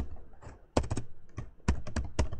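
Quick bursts of typing on a computer keyboard, close and clear, with clustered key clicks separated by short pauses and no talk.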